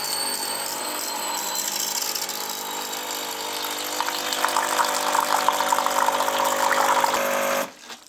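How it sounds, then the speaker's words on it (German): A Nivona CR 740 coffee machine under repair runs its pump to dispense hot water, a steady mechanical hum and whir with rising gurgling flow that stops abruptly near the end. "Schalten die Maschine ein. Machen wir wieder eine Tasse heißen Tee."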